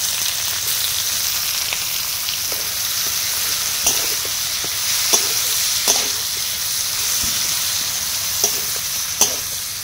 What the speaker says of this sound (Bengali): এখন ওই তেলের মধ্যে আমি কেটে রাখা পেঁয়াজ দিচ্ছি প্রথমে।